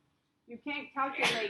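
A sneeze bursts out in a classroom during a math review session, a sharp single burst rising to a bright, loud peak, with a voice speaking just before it.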